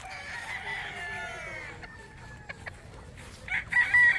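A Kanawayan breed rooster crows in a long drawn call, fairly close and loud, followed by softer clucks and a brief second crowing burst near the end, with no talking.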